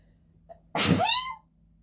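A single high, squeaky sneeze with a short inhale just before it, close and clear, followed by quiet.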